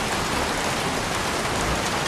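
Rain falls steadily in the Heavy Rain video game, a dense, even hiss of downpour with no pauses and no voices.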